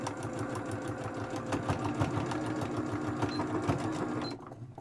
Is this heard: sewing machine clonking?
yes